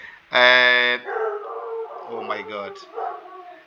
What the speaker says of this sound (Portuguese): desculpa pelo barulho do cachorro aqui